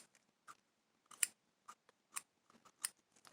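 Scissors snipping to trim a craft antenna, several short crisp cuts in an irregular rhythm, close and fairly quiet, with no talk.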